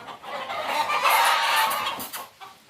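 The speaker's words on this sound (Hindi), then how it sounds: "ये देखें ओमान की मुर्गी पिंजरे के अंदर।" Several Omani chickens clucking and squawking busily together in a cage on a farm, a dense, continuous flock chatter close by with no talking.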